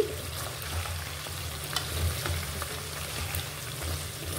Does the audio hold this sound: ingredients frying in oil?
yes